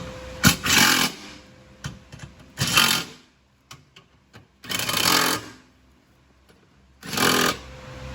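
Power tool tightening exhaust bolts on a Fiat 124 Spider Abarth during a MagnaFlow exhaust install, four short whirring bursts with quiet gaps and small clicks between, close by.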